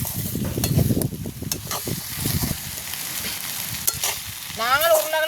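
Curry leaves stirred and fried in a pan in a village kitchen: steady crackling sizzle with scraping stirring strokes, fairly close, loudest early on, no talk.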